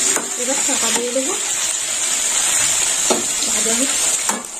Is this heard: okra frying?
yes